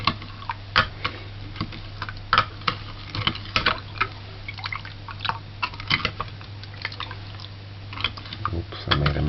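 A scoop stirs banana porridge, making a steady run of small wet clicks and taps at an irregular rhythm, close and moderately quiet, with no talking.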